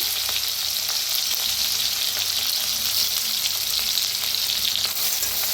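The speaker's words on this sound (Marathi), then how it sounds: "आता तेल चांगलं गरम झालेलं आहे, वाटण टाकूया जे आपण हिरवी मिरची, लसूण, जिरं चेचलेलं।" A pounded paste of green chilli, garlic and cumin hits hot oil in a pan and sets off a loud, dense, unbroken sizzle and crackle, close up with no voices.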